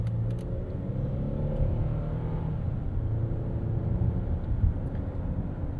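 A 2024 Hyundai Palisade's engine revs steadily while driving, a continuous low rumble of moderate loudness heard from inside the cabin with no voices.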